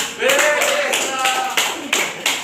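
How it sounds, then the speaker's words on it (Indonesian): Classmates clap for a presenter during a group brainstorming session in a classroom, a short burst of close, lively hand clapping with several sharper claps toward the end, and a voice briefly audible over it. "Tepuk tangan buat Mbak terserah."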